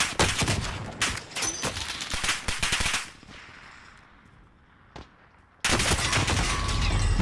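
Rapid automatic gunfire rattles in a shooter video game, loud dense bursts for about three seconds, a quieter gap with a single shot, then another heavy burst.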